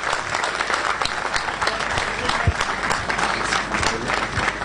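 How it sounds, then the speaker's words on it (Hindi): A hall audience at a youth congress event gives loud sustained applause for a young chess player, continuous dense clapping with scattered sharp claps standing out near the front. "जोरदार तालियां"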